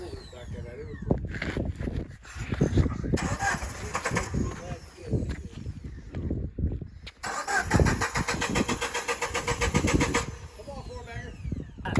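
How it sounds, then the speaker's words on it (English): Jeep engine on a steep off-road canyon trail, flooded with fuel after stalling, cranked over and over in long whirring bursts that never catch, with voices talking between attempts. "It died on me and we could not get it recranked."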